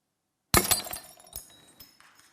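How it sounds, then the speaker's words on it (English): A hammer strikes glass on stage, giving one sharp crash right up close, followed by tinkling shards scattering and settling for a couple of seconds. "So glass breaks, right?"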